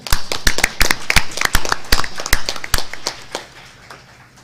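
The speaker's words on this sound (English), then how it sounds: "I think that deserves a round of applause" Sparse applause from a small group at a council meeting, with a few dozen distinct hand claps in an uneven rhythm that thin out and fade over about four seconds.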